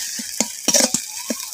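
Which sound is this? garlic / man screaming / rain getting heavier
garlic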